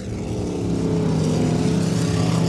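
A race car engine drones loudly and steadily on a track, its harmonic roar holding close and constant throughout with a slight rise in intensity.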